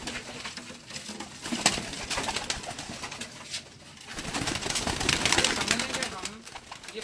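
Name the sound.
pigeons cooing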